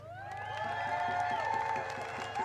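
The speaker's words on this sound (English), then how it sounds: "Let's have a big applause for the horses." An outdoor crowd at a Two Row Wampum music festival in Beacon claps and cheers for horses, a sustained, loud wash of applause and whoops with musical tones ringing underneath throughout.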